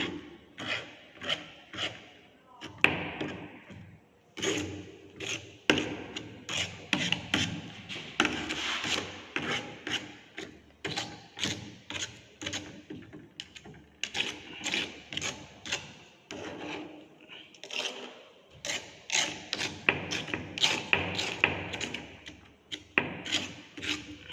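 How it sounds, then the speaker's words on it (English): Excess soil is trimmed off a liquid limit test sample with repeated close scraping and rasping strokes that come in quick bursts for the whole stretch, with brief pauses and no talking. "So here the excess soil has to be trimmed."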